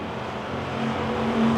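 Wissota Pure Stock race cars battle four wide on a racetrack, a steady roar of engines from some distance that swells slightly toward the end, with no voices.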